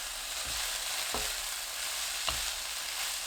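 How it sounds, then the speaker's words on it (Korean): Cabbage stir-frying over medium heat gives a steady, soft sizzle throughout, with a few faint low knocks of stirring, heard close and alone. "양배추 넣고 중불로 4분 더 볶아주세요."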